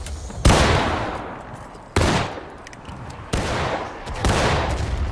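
Musket volleys crack out in the Civil War shooter War of Rights, four loud close fusillades about every second and a half, each trailing into a long rolling echo, with no talk.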